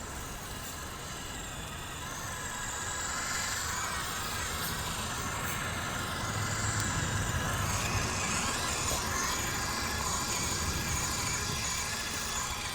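An FMS Atlas 6x6 RC truck churns through soft sand, its small electric motor whining steadily and close. The level rises slightly after the opening seconds and then holds a continuous strained drone.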